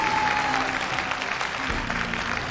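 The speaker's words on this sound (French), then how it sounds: "applaudissements s'il vous plaît" Audience applause at a martial arts festival in Montauroux, a dense steady wash of clapping filling the hall, fairly loud and continuous with a faint tone and murmur underneath.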